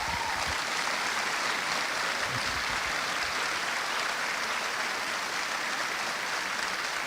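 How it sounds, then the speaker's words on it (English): An audience at a debate applauds the participants, a dense, even wash of clapping that holds steady at a fair distance for the whole stretch. "please give a round of applause to both the participants"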